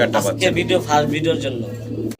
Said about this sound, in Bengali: আমরা দেখতেছি এখানে আছে হোমা কবুতর